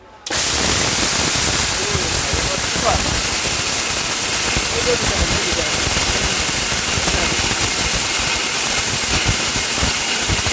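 A powerful steel Bush Robot blender grinding lentils into powder, roaring loudly and steadily with a dense, hissing whine that starts abruptly and runs unbroken throughout.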